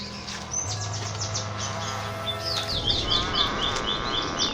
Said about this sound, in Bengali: শুনতে পাচ্ছ এখানে পাখির কিচিমিচি শব্দ।